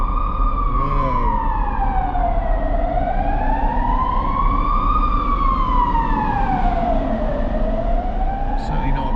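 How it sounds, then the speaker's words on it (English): A fire engine's siren wails in slow, rising and falling sweeps inside a long road tunnel, loud and reverberant over steady traffic rumble, with a brief voice near the start. "there's a police car or ambulance or something coming"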